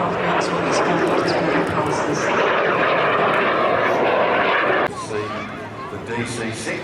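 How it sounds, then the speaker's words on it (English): Loud, steady roar of a Douglas DC-6 piston propeller airliner passing at the Midlands Air Festival airshow, the engine drone swelling and then shifting as it goes by, with a crowd murmuring and talk over it. "See the DC-6 coming in now"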